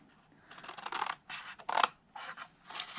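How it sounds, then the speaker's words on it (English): Scissors cutting paper for a scalloped cookie box craft, several crisp snipping strokes with short pauses between, close and quiet with no talking. "we're going to cut off this little rectangle"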